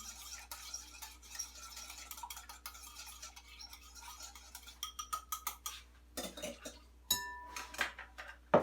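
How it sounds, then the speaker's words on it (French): A spoon stirs half a teaspoon of an ingredient into liquid in a bowl while making basic bread: soft swirling scrapes at first, then sharper clinks of the spoon against the bowl toward the end, with no voices. "Je mélange, pour que ce soit bien dissous."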